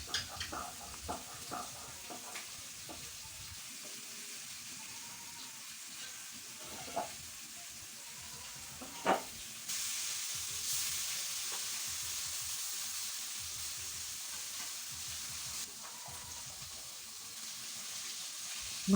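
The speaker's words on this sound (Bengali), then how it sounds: "মাছগুলো ভেজে" Fish frying in a pan on a home kitchen stove gives a steady close sizzle, with scattered clinks and stirring knocks and a brief rush of running water partway through; no one speaks.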